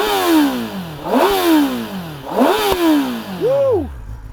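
A stock 2024 Kawasaki Ninja ZX-10R sport bike revving hard several times in quick succession, each blip rising to a loud howl and falling away, close and clear with no talk.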